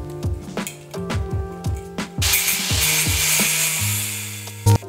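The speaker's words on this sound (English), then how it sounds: "I'm switching the angle grinder from a polishing grinder to a cutoff blade." An angle grinder with a cutoff blade cuts into a BMW K100 motorcycle frame, starting with a series of rhythmic stuttering bites, then settling into a harsh continuous scream of metal cutting, close and loud.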